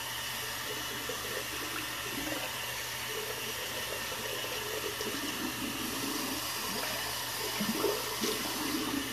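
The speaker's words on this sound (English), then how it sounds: "I'm going to go ahead and rinse off my hand and the puck real fast." Tap water runs steadily as a hand and a shaving soap puck are rinsed at a sink, a continuous moderate splashing hiss that never stops, with no voices.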